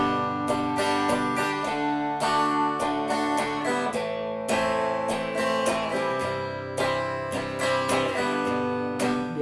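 Acoustic guitar strums the verse of a song in a steady driving rhythm, with bright, evenly spaced chord strokes played alone and up close.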